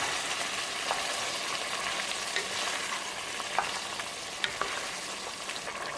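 Black-eyed peas being stirred and fried in a pot, a steady sizzle with occasional sharp scrapes of the spoon against the metal, close and continuous with no talking.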